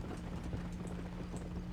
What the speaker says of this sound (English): Yeah, the horses go faster.